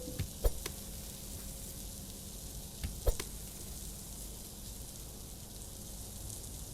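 Burger patties frying on a grill in the Fast Food Simulator video game, a steady soft sizzle with a couple of faint clicks, no talking.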